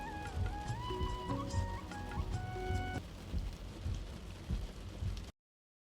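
Steady rain falls in a cartoon monsoon scene, with low thunder rumbling beneath and melodic tones playing over the downpour; fairly quiet, ending abruptly.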